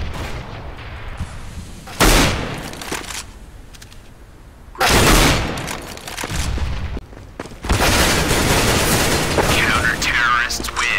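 Grenade throw and detonation in the game Counter-Strike: several loud, sharp bursts stand out amid ongoing gunfire and game noise, with a player talking over it.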